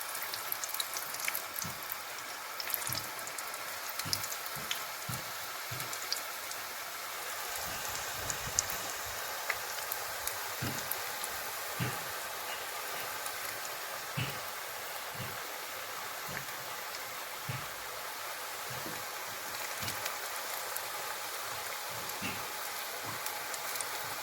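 Chebakia pastries fry in hot oil, a soft continuous bubbling hiss with scattered faint pops and ticks, steady and fairly quiet throughout with no talking.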